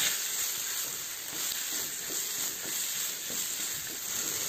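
Chayote, shallots and tomato sauté in a pan with a steady, close sizzle and hiss, holding an even level throughout with faint stirring and no voices.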